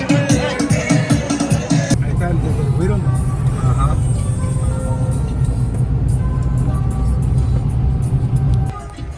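Steady car interior road rumble with engine drone while driving toward the border in Mexico, loud and continuous, with voices talking over it for most of the stretch before it quiets at the end.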